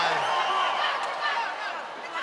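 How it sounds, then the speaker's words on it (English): Boxing arena crowd roaring and cheering as two fighters trade punches, a broad, steady wash of voices filling the hall, loud and continuous without a clear break. "the crowd comes alive"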